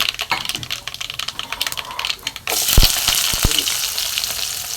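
Dried red chillies frying in coconut oil, first light crackling pops, then a sudden louder steady sizzle with a few sharp spits close by.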